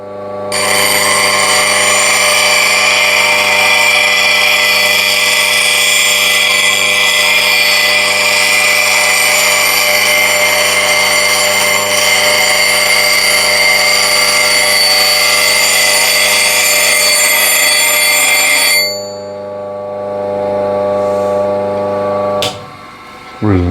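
A finer sharpening wheel grinds a tool, making a loud, steady, close whine full of ringing overtones for about nineteen seconds. The grinding then stops and leaves a softer hum that winds down.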